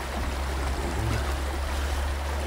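A stream's flowing water filmed up close with an action cam during a spring campervan trip in the Harz, a steady broadband rush with low rumble and no voices.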